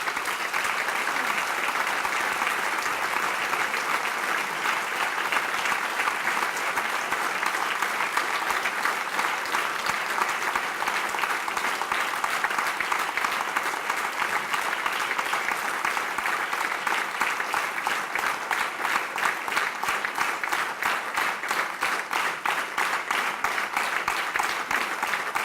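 Sustained applause from a large audience at a political party congress, steady and even throughout, with no voices rising above the clapping.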